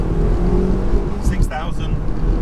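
Turbocharged 2nd-generation-style Mazda MX-5 NC pulling hard in second gear, a heavy low engine drone with a steady climb, heard from inside the car while someone talks over it.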